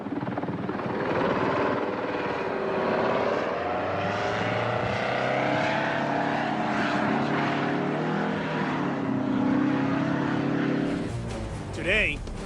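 A V-22 Osprey tiltrotor aircraft flies during a 1991 test flight, its engines and rotors giving a steady, loud droning roar for the whole stretch and swelling briefly near the end.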